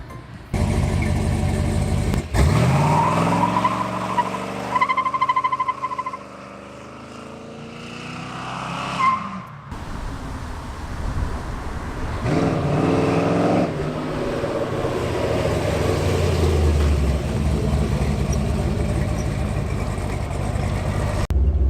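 A loud LS-swapped 6.0 V8 engine in a G-body car roars and climbs in pitch, drops off abruptly, then rumbles and revs again at a steady, powerful level.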